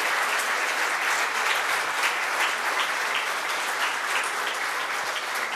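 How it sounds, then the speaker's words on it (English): Steady, dense audience applause fills a piano recital hall, an even wash of many hands clapping at constant loudness with no voices on top. "One more big round of applause."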